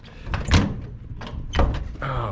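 A tractor cab door on an A4T swinging shut and failing to latch, two loud thuds a second apart with rattling, amid cab noise and a voice.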